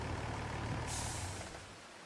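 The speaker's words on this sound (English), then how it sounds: "This is the Mercedes-Benz MB Track 1800 intercooled." A Mercedes-Benz MB Trac 1800 intercooled tractor in Farming Simulator 25 emits a steady low diesel rumble, with a brief hissing release of air partway through before the engine tone eases slightly.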